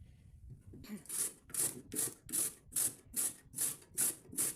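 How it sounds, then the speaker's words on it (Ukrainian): Raw potatoes rubbed on a kitchen grater fitted with a shredding attachment for Korean-style potato salad, nine steady rasping strokes in an even rhythm, close and clear with no talking. "Ну, так, натираю."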